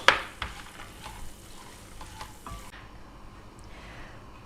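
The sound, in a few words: seeds spluttering in hot clarified butter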